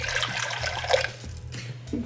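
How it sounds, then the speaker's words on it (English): Water is poured into a bowl of bread starter mixture, a steady close splashing trickle lasting a couple of seconds with no talking. "adding in the water"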